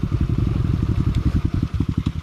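A mini trail motorcycle engine revs loudly and close on a slippery off-road trail, its rapid, steady pulsing exhaust beat running throughout with no talking.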